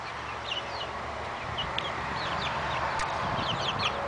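Backyard chickens, including a large golden sex-link hen and a white hen, cluck and chirp in short bursts against a steady outdoor background hiss, fairly close by.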